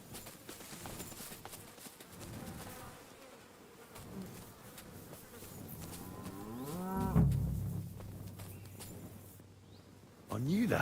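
Cows mooing in the medieval countryside of Kingdom Come Deliverance 2, several drawn-out lows rising and falling at mid distance over a buzzing insect drone, with someone talking at times.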